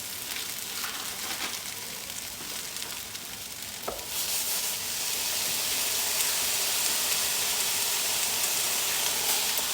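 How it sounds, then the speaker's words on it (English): Minced meat for bolognese sizzles in a pan with softened, translucent onion: a steady broadband frying hiss that grows louder and fuller midway as the meat hits the hot pan, with a few light stirring knocks early on. "So I'm going to make a little hole in the middle and add the meat."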